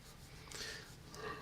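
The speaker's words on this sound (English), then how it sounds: "This guy's doing heavy breathing in the microphone." Heavy breathing close to a microphone, a couple of breathy, snort-like bursts over a low, hissy background, faint and without speech.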